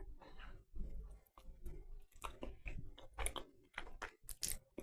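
Someone eating air-fried raspberry cobbler, close soft chewing and light clicks of the mouth and spoon in irregular bursts, quiet and without talk.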